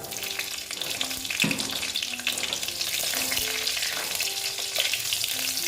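Panch phoron spices and green chilies crackle and sizzle in hot oil for a pumpkin dish, a steady close frying hiss with sharp spitting pops and a few faint clinks, no voices.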